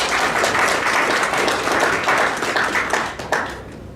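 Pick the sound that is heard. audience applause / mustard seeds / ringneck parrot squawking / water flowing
audience applause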